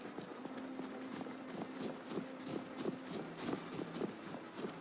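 Horse hooves clip-clop in a steady, even trotting rhythm in Skyrim, moderately close and fairly quiet, with no talking over them.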